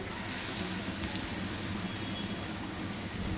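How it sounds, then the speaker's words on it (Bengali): Shrimp and lentil fritters fry half-submerged in hot oil, giving a steady, dense sizzling hiss that holds evenly from start to finish with no voices over it. "আমি এখানে আধা ডুবো তেলে ভাজছি"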